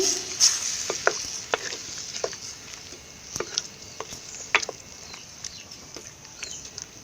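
Light, irregular spoon taps and scrapes as cowpeas are mixed into bottle gourd sambar in a pot, quiet and close over a faint bubbling hiss.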